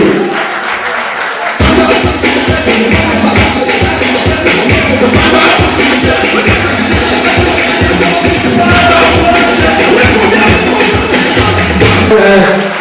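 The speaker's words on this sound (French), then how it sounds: "je vous demande de l'applaudir" An audience applauds at the Chicago premiere of the film Les tresseuses. Loud, dense clapping breaks out suddenly after a brief lull and continues steadily throughout, with a murmur of crowd underneath.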